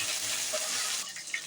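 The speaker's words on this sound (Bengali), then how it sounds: "তেলের সঙ্গে ভেজে নেব।" Curry leaves fry in hot oil in a home kitchen pan, giving a steady, close hiss of sizzling that softens slightly toward the end, with a faint clink near the close.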